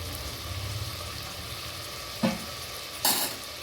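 Tomato rice with basmati rice stirred in a frying pan, a soft continuous sizzle under a low hum, broken by two sharp scraping clacks of the spoon against the pan near the end.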